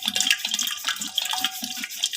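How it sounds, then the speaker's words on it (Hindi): Water pours into lassi prepared for a fasting meal, a continuous splashing, trickling stream heard up close and alone. "और लस्सी में डालते हैं पानी।"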